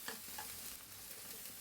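Spices fry in oil for a rohu fish curry with bitter gourd, making a faint, even sizzling hiss with soft stirring sounds throughout.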